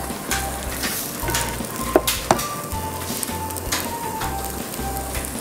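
Tadka spices with rice fry in a pan, a steady close sizzle with occasional sharp pops and stirring scrapes, no voices over it.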